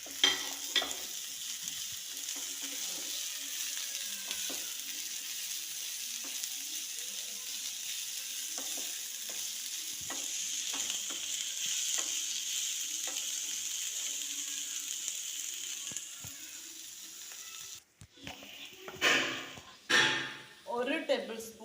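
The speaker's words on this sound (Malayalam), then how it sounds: "അരിഞ്ഞ് വെച്ചിരിക്കുന്ന തക്കാളിപ്പഴം ഇടണം." Chopped tomatoes and onions sizzle steadily in a hot pan with soft stirring, then a loud close clatter of the spoon scraping and stirring comes near the end.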